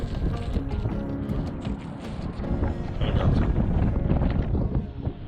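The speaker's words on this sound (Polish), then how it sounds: "Trochę wieje dzisiaj." Steady wind buffets the microphone, a low rumbling roar that swells louder partway through and stays constant to the end.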